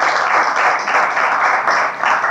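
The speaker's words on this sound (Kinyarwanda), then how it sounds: "tubakomera amashyi menshi." A crowd at an annual church conference applauds, its dense clapping loud and steady throughout a brief burst, swelling slightly in waves.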